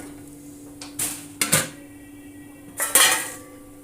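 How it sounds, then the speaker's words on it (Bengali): A metal lid is set onto a cooking pot for chicken pilau, giving a few sharp, close clanks and rattles separated by short pauses, with no talking. "এবার আমি এটাকে ঢেকে দেব কিছু সময়"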